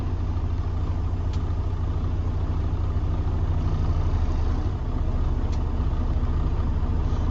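Steady low rumble of a truck engine idling in low first gear as the clutch is slowly released, continuous and even, close and fairly loud with no talk over it.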